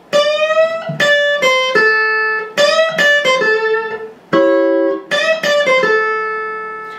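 An electric guitar plays a bluesy riff in A of bright, clipped notes and bends in short phrases, clear and fairly loud with no talking.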